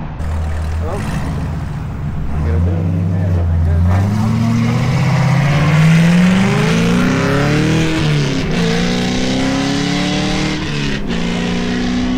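A Corvette C6 Z06 on stock setup revs loudly nearby, its engine pitch sweeping upward in long rising pulls with a deep, continuous growl, while people talk over it.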